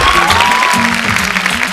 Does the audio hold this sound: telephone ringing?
no